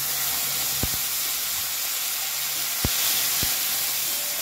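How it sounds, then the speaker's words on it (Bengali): Asafoetida and ginger-fennel paste hit hot oil for urad dal, making a steady broad hiss with a few sharp clicks, close and without voices. "দিয়ে দিলাম কিছুটা হিং, দিয়ে দিচ্ছি আদা মৌরি বাটা"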